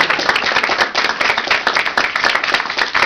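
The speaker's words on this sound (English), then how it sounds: "Clap." Audience at an author showcase clapping to welcome a writer, dense and lively applause with distinct hand claps throughout, fairly close and loud.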